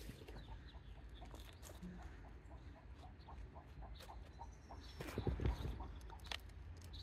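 A hen laying an egg clucks in a steady, repeated rhythm at moderate distance over outdoor background noise, with a few louder bumps and rustles near the end.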